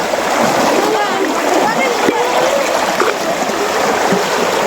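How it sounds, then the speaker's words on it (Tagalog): Steady rushing and splashing of a flowing river, close and constant, with people talking faintly over the water. "ilog na naman guys"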